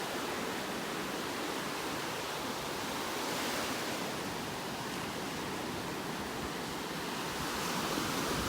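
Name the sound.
ocean waves on beach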